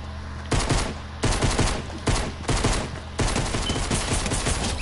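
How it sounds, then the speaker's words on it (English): Close, loud video game gunfire plays alone in repeated automatic bursts, with brief pauses between the volleys. "Who are you shooting at?"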